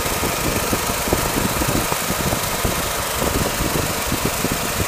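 A car engine runs steadily after being revved during a battery and charging test, a close, even idle hum with a slight rhythmic knock and no talk.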